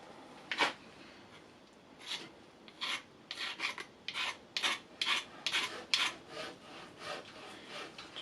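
Brake pads from a Yamaha Neo's 50 scooter, corroded on the backing plate, get a very light filing: a series of short, dry rasping strokes, close and moderately loud, starting sparse and then coming in quick regular succession.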